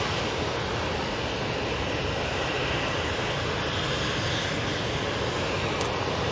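EasyJet airliner engines at Manchester Airport make a steady broadband roar, loud and unbroken throughout, with a hissy wind-like texture and no voices.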